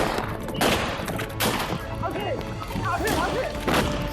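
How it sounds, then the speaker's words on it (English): Rifle shots fired at police behind homes ring out as several sharp, loud bangs spaced across a few seconds, over a busy background with shouting voices. "Shots fired! Police action shooting! Police action shooting! He's got a rifle!"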